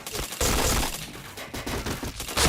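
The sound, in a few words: gunfire headshot in a video game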